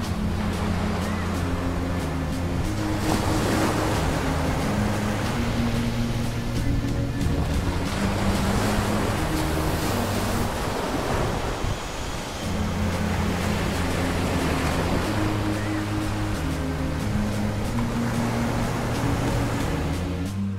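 Waves wash onto a beach in a steady surf roar, with soft swells rising and falling under a repeating background music track.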